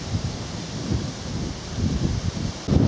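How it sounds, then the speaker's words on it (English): Wind gusts across an open countryside footpath in the Chilterns, a rough, rumbling buffeting that swells and surges close to the microphone. "Wind is definitely picking up, which is ominous in terms of rain."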